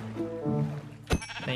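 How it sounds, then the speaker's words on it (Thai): Minecraft sheep bleating in a short game sequence, a harmonic bleat followed by a brief sharp click and a second bleat, moderately loud and close with no talk. "ไอ้แกะ"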